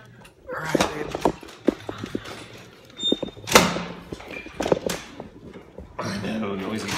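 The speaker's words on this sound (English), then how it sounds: "noisy doors" Clinic doors bang, clatter and slide in a busy hallway, with repeated knocks and a long rattling roll, while people talk nearby.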